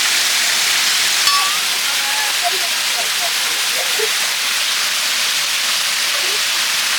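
Loud, steady rushing water fills the space with a constant broadband hiss, a few faint higher tones flickering beneath it.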